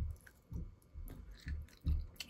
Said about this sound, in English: Then you get this crunchy sweet corn.